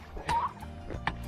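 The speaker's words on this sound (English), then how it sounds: "the turkeys are in now eating where they used to eat down there, which is the chicken coop" Turkeys gobble in a chicken coop where they are eating: a few short, warbling bursts from nearby, spaced unevenly over low background noise.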